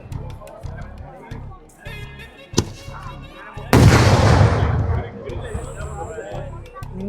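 Fireworks explode nearby at a temple festival ground in Kerala: a few sharp bangs, then a loud sustained crackling barrage, with a crowd chattering in the background throughout.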